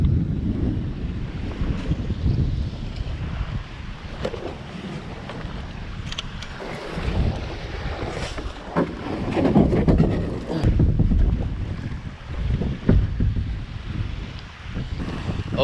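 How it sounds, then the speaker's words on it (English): Gusty wind on a deserted tropical island beach buffets the microphone in loud rumbling surges, with small waves washing in underneath and no voices. "the wind's picked up"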